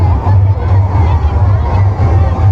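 Dense crowd hubbub at a village temple festival, with overlapping chatter and babble holding steady and fairly loud over a low rumble throughout.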